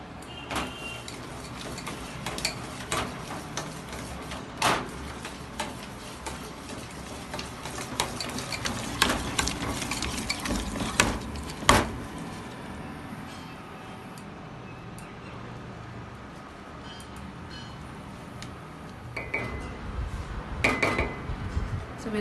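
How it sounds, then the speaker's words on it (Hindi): Churros batter being mixed in a bowl after an egg is added, with repeated clinks and scrapes of a whisk or spoon against the bowl, busy and uneven at first and then quieter. "उसके बाद अच्छे से आप मिक्स कीजिए।"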